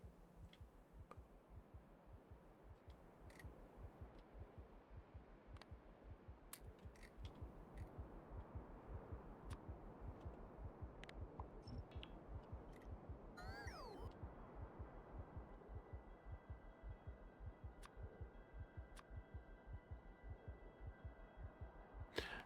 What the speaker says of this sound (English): Just because that heartbeat sounds annoying.